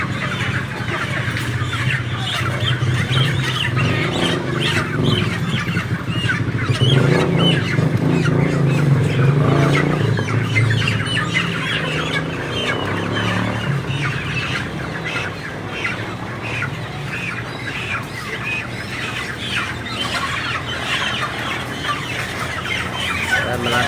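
A dense, loud chorus of clucking and squawking 45-day-old chickens at an early-morning slaughter site, continuous and busy throughout, like a crowded flock nearby, with occasional voices in the mix.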